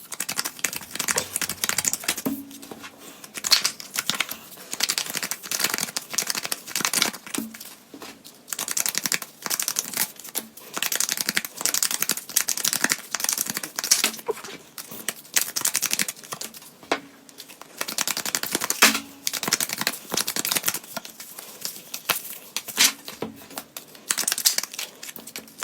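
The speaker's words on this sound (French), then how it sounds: "je prends tarot et oracle et je vais préparer les cartes" Tarot and oracle cards shuffled by hand, repeated riffling and sliding bursts of crisp papery rustle in an uneven rhythm, close and fairly loud with brief pauses between rounds.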